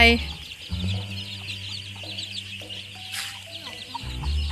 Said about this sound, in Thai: มีแม่ไก่ใครอ่ะ